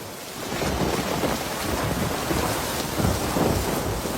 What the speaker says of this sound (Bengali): বৃষ্টি এখন একটু কম হয়েছে।